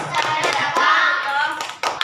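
A school class claps together in a steady rhythm while chanting in unison during a classroom clapping routine, with sharp claps cutting through the voices over a couple of seconds.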